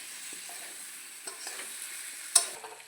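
Chicken curry sautéing slowly in a pan over low flame, a soft steady sizzle with a few light scrapes of stirring, one sharper clink near the end, no voices.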